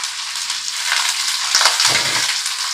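Freshly washed helencha greens dropped into a hot pan of oil, a bright hissing sizzle with crackle and a brief rustling thud, close and steady throughout.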